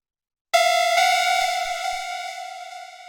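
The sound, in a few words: synth lead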